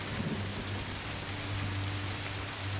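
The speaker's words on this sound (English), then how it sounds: "Distant sound of thunder." Low, steady rumble of far-off thunder beneath a wash of rain, heard alone as a distant storm ambience for a Halloween tabletop game scene.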